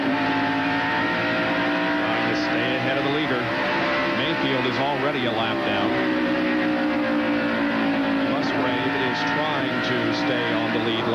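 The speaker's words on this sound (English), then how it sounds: "Now here is Darrell Waltrip looking to the inside of Dale Jarrett for 5th place" NASCAR Winston Cup stock cars thunder around Bristol's short oval during the 1994 night race, a continuous loud roar of many engines with rising and falling pitch as cars pass, with race commentary talking over it.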